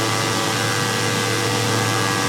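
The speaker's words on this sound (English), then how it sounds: "As we rev up the engine," In the video game MotoGP 17, a motorcycle engine holds a steady high-pitched rev, a loud, continuous buzzing whine that stays even throughout.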